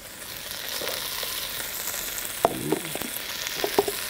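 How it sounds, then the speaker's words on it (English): Carrots, celery, parsnips and turnips sizzle in a pot for beet borscht, a soft steady frying hiss with a few sharp clinks and scrapes of a utensil near the end. "I'm going to add the carrots, and I'm going to add some celery and some parsnips."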